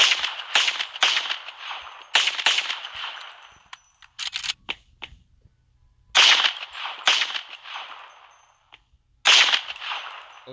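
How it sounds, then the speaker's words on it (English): Gunshots fired at a projector in the MadOut2 open-world game, sharp close cracks in quick bursts separated by short pauses, loud and alone with no talk. "Anyway, I'm going to shoot your projector."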